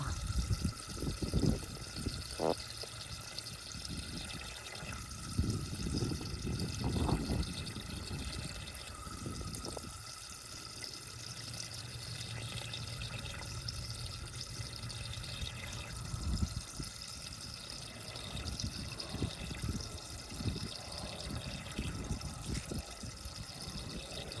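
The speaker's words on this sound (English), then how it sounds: "You just want to keep it running until little or no water is coming out of it anymore." Water trickles and gurgles steadily from a pipe as an irrigation system drains, with intermittent splashes and drips over a constant low rush.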